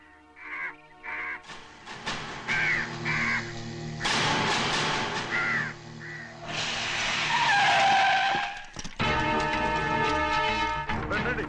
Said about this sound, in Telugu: ఈ ఏరియాలో ఒక్క కాకి కూడా ఉండాలని వీలేదు. మొత్తం అన్ని కాల్చండి.